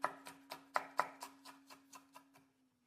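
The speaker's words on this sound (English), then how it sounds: "So we'll chop that." A knife chops a chili pepper with its membrane removed, prepared for a chorizo hash. About ten quiet, evenly spaced chops fall on a board at a steady rhythm, then stop.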